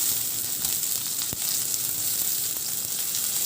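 Garlic and onion sauté in hot oil in a pan, giving a steady, close sizzle that runs throughout with a faint scrape of stirring near the middle.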